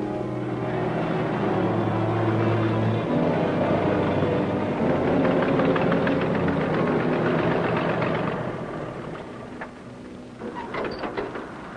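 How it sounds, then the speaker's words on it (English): An airboat engine in the Everglades roars loudly and steadily at close range, with a deep propeller drone that fades somewhat near the end. "I can't talk to you over the sound of that engine, Claire."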